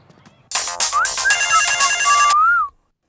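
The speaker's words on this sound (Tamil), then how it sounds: "ஃபோன் எடுக்க மாட்டியா எத்தனை தடவை கால் பண்றது" A mobile phone ringtone, a loud electronic melody of bright sliding tones that starts suddenly, plays for about two seconds and stops, with no talking.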